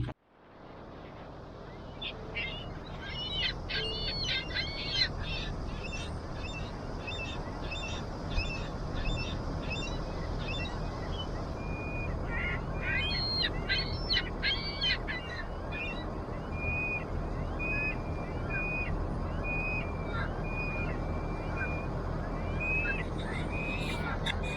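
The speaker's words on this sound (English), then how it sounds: "The seagull was getting the crap beat out of him." Harsh, repeated seagull squawks and calls come in bursts over a steady low rumble of wind or engine noise, fairly distant.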